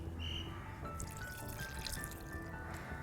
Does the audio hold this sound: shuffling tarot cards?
no